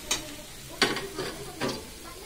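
Chopped capsicum going into a hot pan of fried shredded cabbage and carrot, three short bursts of sizzling and spatula scraping at close range over a low steady hiss.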